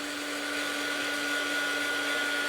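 A handheld heat tool blowing over an art journal page, a steady close whirring hum with a high whine, unbroken and fairly loud for a couple of seconds.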